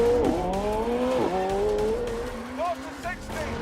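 McLaren Senna launching at full throttle, engine note climbing steeply through rising harmonics with a brief dip at a gear change, loud and close, with someone talking over it.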